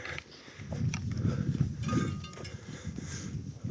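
Cows on a mountain trail, unseen nearby, shuffle and move through grass with soft thuds and rustling, a faint bell-like clink now and then, fairly close and steady.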